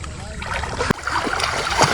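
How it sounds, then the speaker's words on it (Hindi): Fast-flowing river water rushing and splashing nearby. It makes a continuous loud wash with a sharp splash partway through, and people are talking over it. "देखो कितना तेज चल रहा है पानी"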